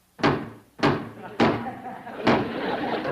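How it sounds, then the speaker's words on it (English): Heavy pounding on a garage door at night: four loud, booming thuds spaced about half a second apart, close and resonant, each ringing briefly before the next. "I can hear them pounding on the door"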